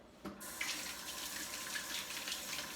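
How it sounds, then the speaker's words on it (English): A kitchen tap opens with a click and runs steadily as hands are washed at the sink, a close continuous splashing stream. "Let me wash my hands real quick."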